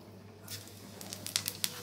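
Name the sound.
five-spice seeds added to hot oil for fish curry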